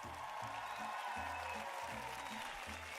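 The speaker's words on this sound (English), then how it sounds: "we got to go turbo a round of applause" A round of applause plays as a canned sound effect, steady close clapping with light crowd cheering that runs from start to end at moderate volume.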